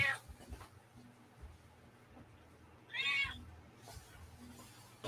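A cat gives a short, sharp meow partway through, faint against a quiet indoor room with some soft knocks and shuffling.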